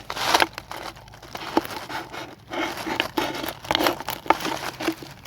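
Gerber Mini Mix 2 compact multi-tool blade sawing and crunching through a piece of plastic, giving close, irregular crinkling and tearing bursts over several seconds with no talk.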